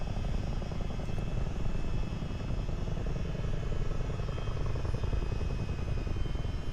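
A Chinook twin-rotor helicopter in Microsoft Flight Simulator 2024 gives a steady, rapid rotor thump over a constant engine whine, even and moderately loud, with no voices.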